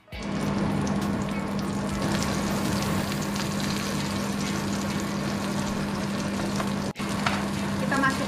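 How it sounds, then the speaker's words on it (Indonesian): Food frying in olive oil in a pan, a loud, continuous close sizzle with a steady hum underneath and a brief knock near the end. "Oke teman-teman, sekarang kita goreng ya."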